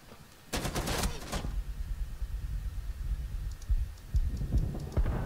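Gunfire in the tactical shooter Rainbow Six Siege: a loud close burst of rapid shots near the start, then scattered sharper shots and impacts toward the end over a low background rumble.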